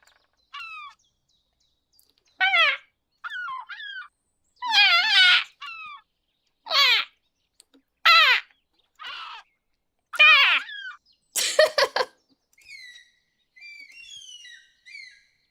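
Gull calls from the Wingspan board game play as a series of separate loud, sharp, squealing cries spaced a second or two apart, with softer chirps near the end and no talk over them.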